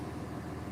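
A truck engine idling with a Banks Economind fitted, a low steady rumble with even pulsing, close and unbroken through the short stretch.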